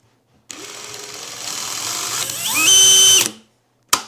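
DeWalt DCD996 brushless hammer drill running in speed mode 2, starting abruptly and whirring close by, pitch ramping up to a loud high whine before stopping and spinning down, with a brief click after.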